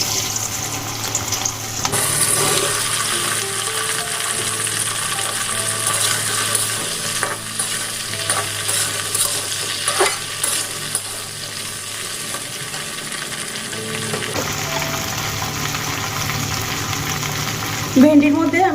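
Okra frying in hot mustard oil gives a steady, close crackling sizzle that runs on, with occasional stirring and some talk in the background.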